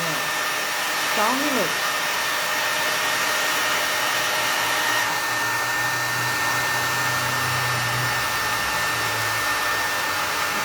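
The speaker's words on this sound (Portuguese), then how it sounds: "falou com o secador ligado, difícil de escutar" A hair dryer blows with a loud, steady whooshing drone throughout, and a person speaks briefly near the start over the noise.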